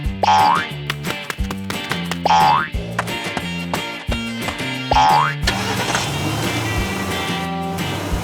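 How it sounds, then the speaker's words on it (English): Cartoon car from Peppa Pig setting off for a family outing: repeated bouncy boing effects over a chugging, rhythmic musical bed, followed by a busier whooshing stretch as it drives away. "The whole family quickly got ready, hopped into the car, and set off."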